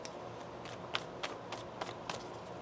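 Tarot cards being shuffled by hand, with a soft continuous rustle broken by a regular series of crisp snaps as the deck is riffled, close and fairly quiet.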